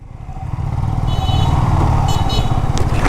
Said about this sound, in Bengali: অনেক বাইকার আসছে এই জায়গাটাতে।